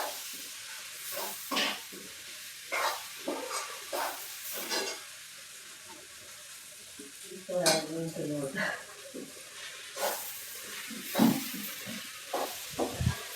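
Wet cashew and vegetable curry is stirred in a pot over a wood-fired stove, with intermittent metal scrapes and clanks of a spoon against the pot over a faint sizzle.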